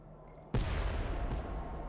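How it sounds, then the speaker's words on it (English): A sudden loud explosion in a video game hits at once and fills the space with a deep, sustained rumbling roar that fades slowly, with a second faint crack partway through. Nobody speaks. "Sounded like an explosion."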